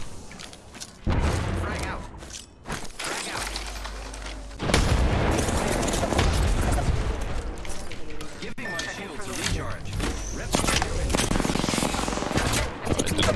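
Video game firefight with a thrown frag grenade: bursts of rapid gunfire and sharp booms crowd the whole stretch, close and loud, while players talk over the shooting.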